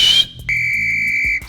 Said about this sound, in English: Sick, weak ass whistle